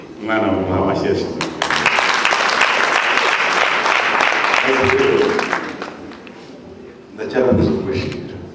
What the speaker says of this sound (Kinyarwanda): Umwana mumuha amashyi.